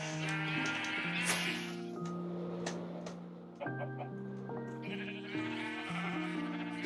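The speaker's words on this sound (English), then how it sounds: "black coloured sheep and your white coloured sheep." Sheep in the Minecraft video game bleat repeatedly in close, clear calls, several overlapping bleats with brief pauses and no talk.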